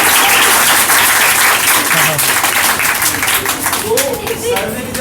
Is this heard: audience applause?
yes